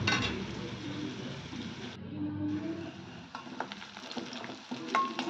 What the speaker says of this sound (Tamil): வெங்காயம் நல்லா பொன்னிறமாக வர வரைக்கும் நல்லா வதக்கிக்கோங்க.